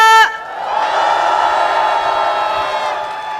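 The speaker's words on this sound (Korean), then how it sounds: "다시 한번 뜨거운 박수와 함성 부탁드립니다." A crowd at an outdoor political rally cheers and whoops in a sustained, loud wave of voices, following a brief tonal sound at the very start.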